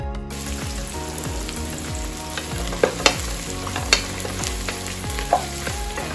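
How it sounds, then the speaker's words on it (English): Onions frying in a pan for mutton biryani, a steady close sizzle with repeated scraping stir strokes and a few sharp clinks of the utensil against the pan. "So let's fry the onions well."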